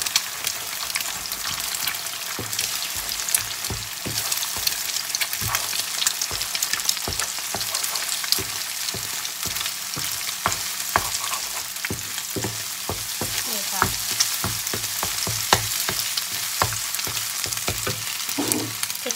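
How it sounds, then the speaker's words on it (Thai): Eggs being scrambled and stir-fried in a pan for a konjac noodle and cabbage dish, with a steady loud sizzle crackling throughout and frequent scraping, tapping stirs of the utensil, no voices. "จะยีไข่เป็นแบบนี้นะคะ"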